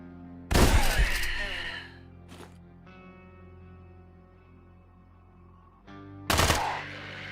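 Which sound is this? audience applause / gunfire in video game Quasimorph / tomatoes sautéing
gunfire in video game Quasimorph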